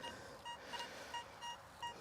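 Deus II metal detector sweeping over a probable iron nail, giving a series of short, scratchy high beeps in a broken rhythm against quiet outdoor background.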